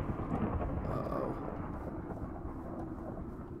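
A low, continuous rolling rumble of thunder in a Minecraft storm, moderately loud and gradually fading, with no other distinct sounds.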